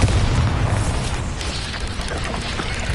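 Explosion from the Bombarda spell in a Harry Potter video game, a loud, rumbling blast with sustained low booming and crackling debris, close and continuous for a few seconds without speech.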